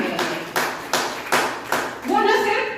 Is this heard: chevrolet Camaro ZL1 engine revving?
no